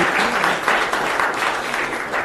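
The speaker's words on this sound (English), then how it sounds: "Let's give them a big round of applause." A dense, steady burst of applause from the audience at a city council meeting fills the space without a break.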